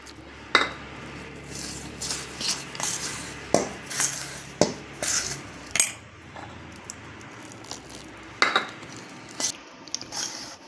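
Dough for elai adai is kneaded by hand in a kitchen: soft, irregular squishing and slapping with occasional clinks of a vessel, close and fairly quiet, with no talking.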